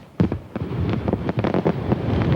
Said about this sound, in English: You got to feel the fireworks.